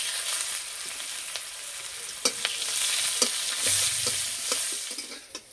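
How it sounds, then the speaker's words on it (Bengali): Onions fry in hot oil in a pan with dried chilli, five-spice and crushed garlic, giving a steady crackling sizzle broken by several sharp stirring scrapes and clinks; no one speaks. "পেঁয়াজ ভাজা হয়ে গেছে"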